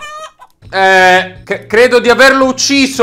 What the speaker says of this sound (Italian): È un pollo!